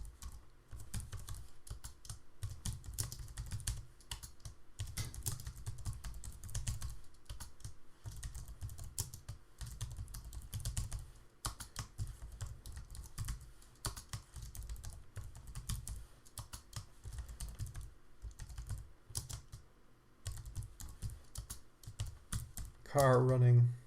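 Continuous typing on a computer keyboard, a rapid close-up patter of key clicks with brief pauses, going on for over twenty seconds with a short burst of other sound at the end.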